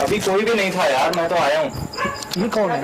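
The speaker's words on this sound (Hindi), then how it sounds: "कुत्ते जो हैं वो बहुत ज्यादा भौंक रहे हैं और उनकी आवाजें करीब आती जा रही हैं हमारे" Dogs bark and yelp at night amid loud, close conversation, their cries mixed in under the voices.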